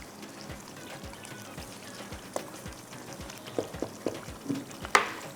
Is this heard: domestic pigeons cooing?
no